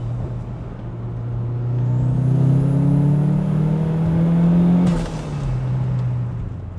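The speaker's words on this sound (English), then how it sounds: "that sound, those turbo noises are absolutely intoxicating" Engine-swapped Toyota MR2 with a Honda Type R engine, accelerating nearby as the engine note climbs, with a high turbo whine rising over it and a sharp blow-off hiss near the end.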